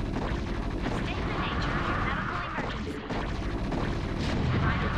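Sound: siege tanks firing in StarCraft Brood War video game

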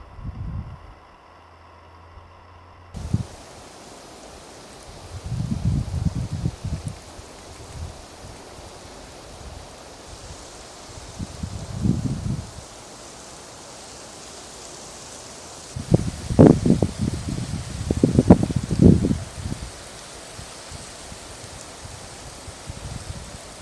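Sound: wind outdoors in snow

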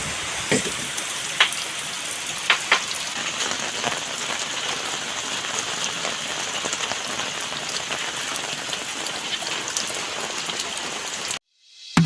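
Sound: heavy rain on surface

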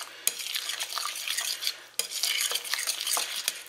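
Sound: egg yolk being broken and mixed in a bowl

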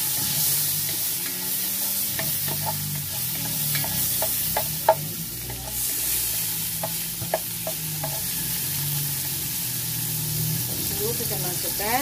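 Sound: sautéing lemongrass and onion in a pan, sizzling

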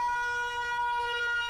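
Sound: air raid siren sound

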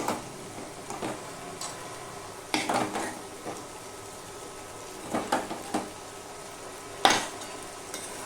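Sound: stirring and sautéing lentils (dal) with fish head in a pan

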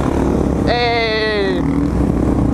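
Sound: supermoto motorcycle revving for a wheelie

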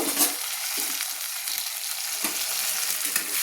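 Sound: potatoes frying in spiced oil

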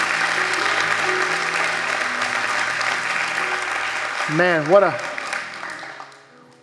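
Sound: congregation applause

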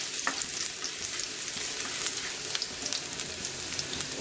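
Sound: sliced garlic frying in a pan

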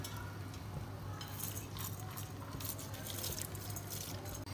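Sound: water being added to a pot of lentils

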